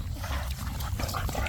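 A skinny American bully puppy whimpers close by, short high whines and snuffles over a low rumbling background.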